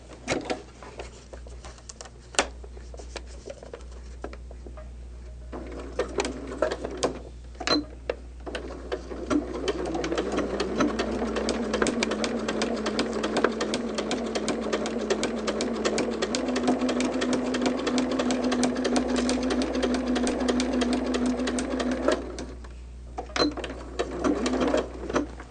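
Domestic sewing machine stitching a quilt block, its needle running in a steady rapid mechanical rhythm for most of the stretch, starting and stopping with short pauses, close and moderately loud with no talk.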